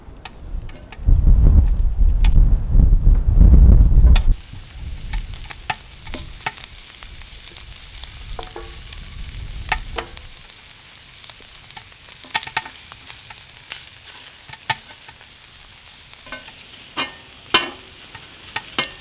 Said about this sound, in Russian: сначала мы на сухой сковороде, без всякого масла, обжарим наши ребра.